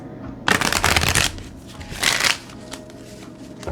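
Stiff new playing cards are shuffled close by in two bursts, each a dense, rapid riffle of flapping card edges, separated by a brief pause and followed by quieter handling.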